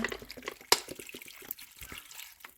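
Bottled water is poured into a pot of pineapple for a Caribbean pineapple ginger lemon and lime juice, giving soft close splashing and trickling with small drips and one sharper splash, and no talk.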